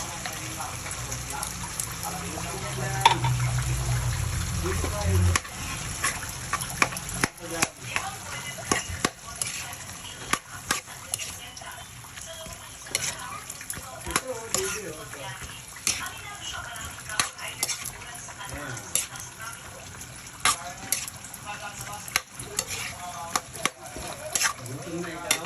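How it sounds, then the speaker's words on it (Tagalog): Sayote and sardines fry in a pan while they are stirred, making a steady sizzle broken by frequent clattering scrapes of the spoon, with a person talking now and then. "Haluin lang siya ng haluin."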